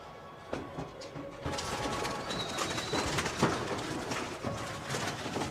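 Racing pigeons cooing at a loft, soft low coos repeating over a continuous hiss of background noise, fairly close and without talk.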